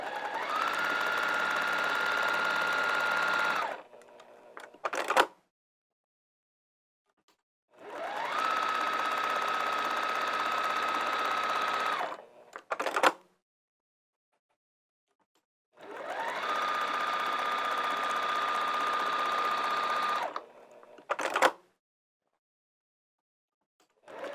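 A quilting machine stitches through a quilt in three steady, sustained runs of motorized whirring with a constant high tone, each lasting about four seconds. Between the runs are brief mechanical clicks and short silences, and no one speaks.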